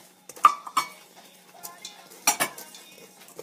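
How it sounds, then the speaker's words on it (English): Flour, sugar, baking powder and salt are whisked together in a bowl for biscotti, heard as several quick scraping taps and clinks of the whisk against the bowl in a quiet kitchen. "a half a cup of sugar, a teaspoon of baking powder, and a 1/4 teaspoon of salt, which I'm whisking together"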